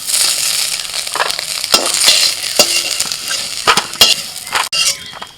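Eggplant pieces frying in hot oil in a home kitchen, a loud close sizzle broken by sharp crackles, scrapes and clinks of a utensil turning the pieces in the pan.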